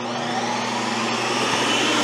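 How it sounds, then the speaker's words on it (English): A Ninja Creami ice cream machine spins frozen ice cream with its large blade, giving a loud, steady motor whir that holds without a break and without talk. "it's spinning ice cream with this giant blade"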